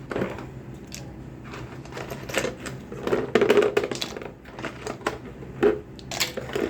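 Ice cubes are dropped in and crushed while curd soda is mixed, giving a run of sharp clattering, cracking and grinding bursts, loudest in the middle, close to the microphone with no talk.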